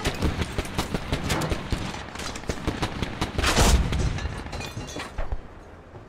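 Gunfire in the Squad video game hits a Bradley armored vehicle: dense, rapid bursts of shots and impacts with a louder explosive boom in the middle, all heard without speech.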